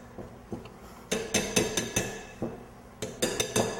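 A metal pastry cutter working fat into flour for pie crust in a bowl, giving a series of sharp, close clinks and taps in irregular bursts with short pauses between.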